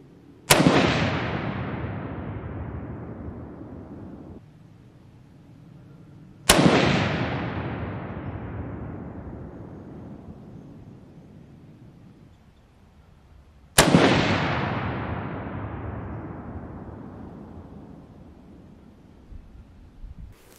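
Three loud, sharp rifle shots from a scoped Winchester M70 fired at a paper target, each crack followed by a long echoing decay, spaced several seconds apart outdoors with no talking.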